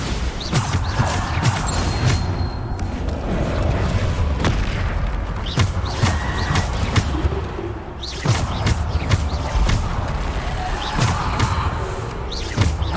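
Bombarda spells blast repeatedly in Hogwarts Legacy, several sharp booming explosions spaced through the stretch with crashing, creaking debris between them.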